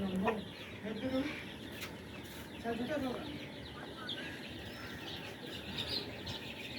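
Several Fayoumi chickens cluck and chatter nearby in short bursts on a poultry farm, with other birds chirping and people talking in the background.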